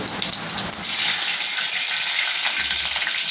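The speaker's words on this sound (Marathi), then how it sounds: "तेल झालंय गरम, जिरं मोहरी टाकून घेते। त्याच्यात टाकते थोडी मिरची" Cumin, mustard seeds and chilies crackle and sizzle loudly in hot oil, a dense, steady frying hiss close up with no voices, while dal khichda is being cooked.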